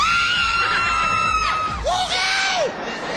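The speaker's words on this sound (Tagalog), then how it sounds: "Sumigaw ulit tayo pag natutuwa." An audience shouts and whoops with joy, loud and continuous, with high voices sliding up and down over the crowd noise.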